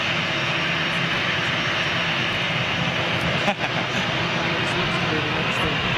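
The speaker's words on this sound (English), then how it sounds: "Emirates next in. Nice big power up by those CFMs." An Emirates jet's CFM engines power up with a broad, steady roar that holds throughout, heard from a distance outdoors with a brief knock partway through.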